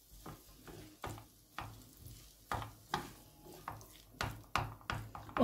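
Vegetable filling for spring rolls with green chilli being stirred in a hot pan, a series of scraping spoon strokes roughly once a second over a low sizzle, close and clear, with no talk.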